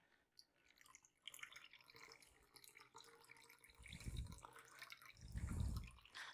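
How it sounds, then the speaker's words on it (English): Cranberry nogarita dripping and leaking from a cocktail shaker as it is poured, giving soft wet patters that swell into two louder splashy bursts near the end, close and without talk. "there's my drippy little leaks"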